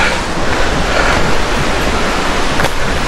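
Steady, loud rushing of the Lollipop River in Narvaez, Bailen, a broad, unbroken wash of noise with no voices.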